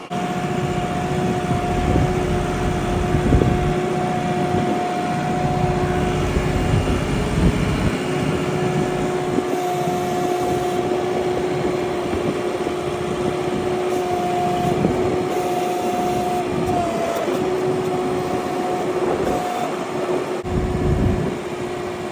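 A farm tractor engine runs continuously at a steady idle-to-working drone, close and fairly loud, with a constant whine and some clanking and shifting in load, and no talk over it.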